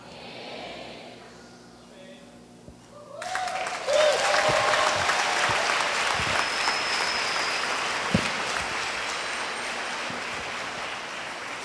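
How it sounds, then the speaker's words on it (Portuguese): A church congregation at a prophetic conference breaks into applause after a quieter stretch, the clapping swelling loud and sustained with a few sharper claps standing out near the end. "aplauda bem forte ao Senhor"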